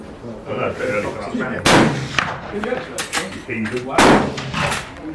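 Shotgun blasts at the West London Shooting School during an arms dealer event: two sharp, loud reports about two seconds apart, with people talking and chatting between them.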